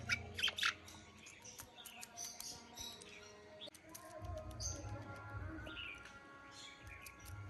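Two pet myna birds eating a large spider give a few sharp squawks and chirps near the start, followed by scratchy rustling and low rumbling background noise.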